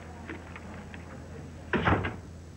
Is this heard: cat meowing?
no